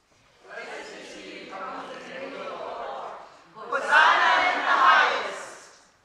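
A church congregation at a Palm Sunday service shouts praise together, a sustained crowd roar in two waves, the second louder and fuller, with no single voice standing out.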